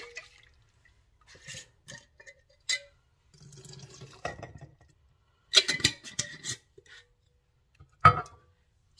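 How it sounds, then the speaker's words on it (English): Distilled water sloshes inside a glass jar being shaken, with scattered splashes, drips and clinks that come in sporadic bursts amid near silence, a few louder knocks standing out. "I'm going to shake this to get as much out of this jar that we started with"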